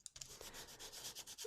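A nail file rasps across the glossy surface of a journal card in quick, short back-and-forth strokes, quiet and close, with no other sound.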